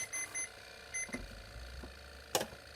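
The small timer on a UV light beeps in a few short, quiet pulses, followed by soft clicks and one sharper tap, with low background hum in between.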